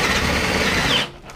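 A drill fitted with a 1-inch Forstner bit bores into a workbench. The motor whines loud and steady for about a second, then cuts off abruptly.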